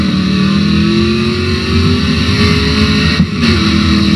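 A car engine in a racing video game drones and revs steadily, loud and close, with a slowly climbing tone and a short dip near the end.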